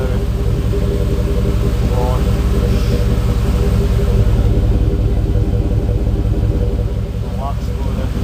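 A Chevy small-block engine runs after a timing chain replacement, with a steady, loud, even idle rumble close by. Someone talks over it the whole time.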